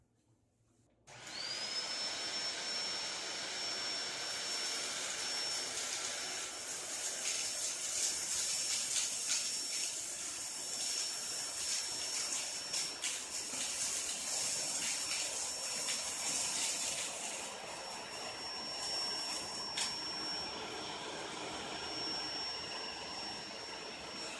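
A Shark Powered Lift Away vacuum with Duo Clean starts up and runs steadily, a loud continuous motor roar with a high whine that holds for the full stretch, close by.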